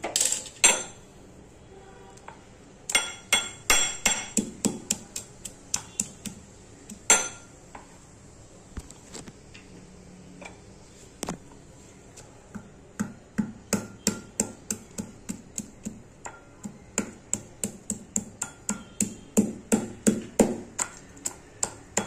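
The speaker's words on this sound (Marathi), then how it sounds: "अद्रक आणि मिरची कुटून घ्यायची" Ginger and green chillies pounded coarsely in a kitchen, a long series of sharp, close knocks with metallic clinks, coming in bursts with short pauses, then a steady fast rhythm, with no talking.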